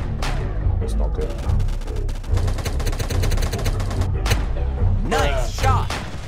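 Weapon fire in the Roblox Tank Warfare game, a fast rattling stream of shots with heavier thudding impacts near the start and end, loud and close, with people talking over it.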